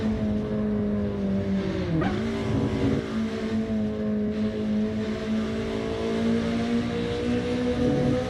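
A BMW or Mercedes race car in Assetto Corsa, its engine holding a steady loud drone with a brief dip and shift around two seconds, then resuming its sustained tone alone.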